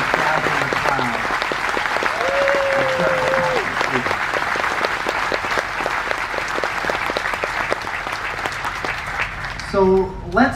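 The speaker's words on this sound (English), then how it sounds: "One more round of applause for Gavin MacLeod" A large theater audience on a cruise ship gives a long, loud round of applause for Gavin MacLeod, dense clapping throughout with a brief whistle, and a voice briefly cutting in near the end.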